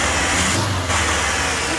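A 1994 Ford F-150 engine with a restricted exhaust idles in a loud, steady, unbroken rumble that stays close throughout, with no voices over it.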